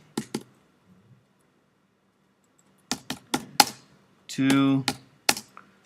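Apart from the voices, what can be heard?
typing on a computer keyboard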